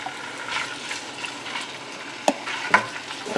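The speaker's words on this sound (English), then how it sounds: "A little sizzle. Already sizzling." Chicken sizzling steadily in a hot pan, a soft continuous crackle with a couple of sharper pops and clinks near the end.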